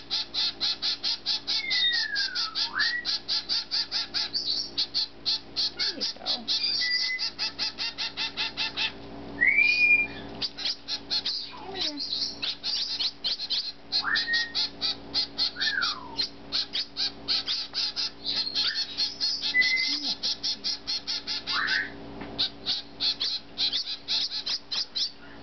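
Handfed zebra finches and a Gouldian finch chirp indoors in a steady stream of rapid, close, high-pitched cheeps and nasal calls for the whole stretch, with no talking.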